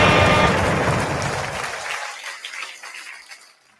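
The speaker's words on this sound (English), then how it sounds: "Let's give that man a round of applause" Audience applause for a man being praised at a men's life-lessons talk event, a full burst of clapping that tapers off and fades out over a few seconds.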